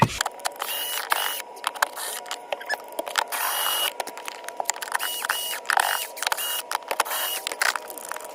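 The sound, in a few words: removing screws with a 10mm bit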